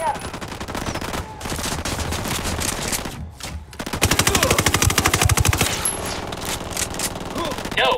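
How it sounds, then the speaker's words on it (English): Rapid automatic gunfire in the video game Ghost Recon Wildlands, loud and sustained with dense bursts that briefly drop out before resuming heavier, a voice speaking faintly over part of it. "Opening fire."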